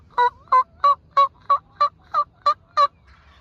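A wild turkey gobbler on public land gobbles near a decoy, nine evenly spaced, clear, sharp calls in a steady rhythm, moderately close and alone in quiet surroundings.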